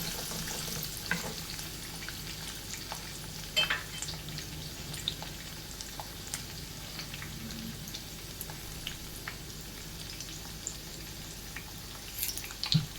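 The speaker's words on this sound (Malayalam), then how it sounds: "വെളുത്തുള്ളിയുടെ ഇഞ്ചിയുടെ ഒക്കെ ഒരു പച്ചമണം ഒന്ന് മാറുന്ന വരെ നമുക്കതൊന്ന് വഴറ്റിയെടുക്കാം" Chopped garlic and ginger sauté in hot oil in a pan for an ivy gourd (kovakka) pickle, giving a steady soft sizzle with occasional stirring scrapes and a few louder crackles, no talking.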